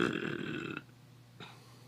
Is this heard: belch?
yes